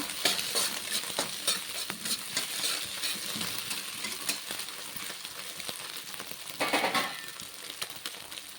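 Vegetables stir-fried for egg noodles in a hot pan, a steady sizzle with repeated scraping and clinking of a spatula stirring against the metal, close and continuous.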